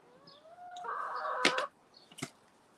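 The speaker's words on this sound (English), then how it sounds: "these chickens over here, they are not happy" Chickens in a backyard garden give a drawn-out rising squawk that becomes agitated clucking, then two sharp short calls, fairly close and unaccompanied by voices.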